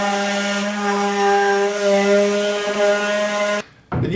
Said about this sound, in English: I'm going to go ahead and sand this for the third time